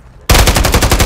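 An automatic rifle, the SVA 545 assault rifle in Call of Duty Modern Warfare 3 on the Scrapyard map, opens up suddenly after a quiet moment, firing a loud, rapid burst of evenly spaced shots.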